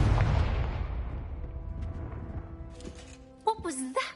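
A Confringo explosion spell cast in a video game, a heavy boom that fades out over a few seconds, followed by short sharp magical whooshes and zaps near the end, with a voice calling out the spell.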